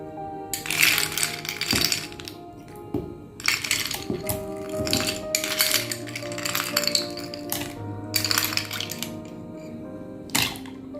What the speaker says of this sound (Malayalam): ഇനി ഐസ് ക്യൂബ്സും കൂടി ഇതിൻ്റെ അകത്തേക്ക് ഇട്ട് കൊടുക്കാം നമുക്ക്.